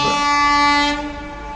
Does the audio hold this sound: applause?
no